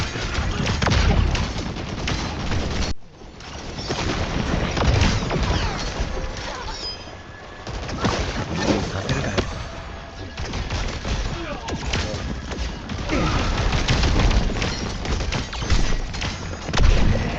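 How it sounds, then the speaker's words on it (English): Rapid, dense gunfire and blasts from Mizuki firing projectiles in a team shooter game, a loud, nearly unbroken barrage of shots and booms with one short lull early on. "As Mizuki, you never really have to be in the main line of fire because you can bounce your projectiles off of walls"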